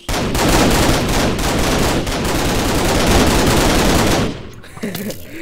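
Video game gunfire from a Minecraft CrackPack guns mod: loud, dense, rapid automatic shots hammer continuously for about four seconds, then stop abruptly, leaving quieter background sound.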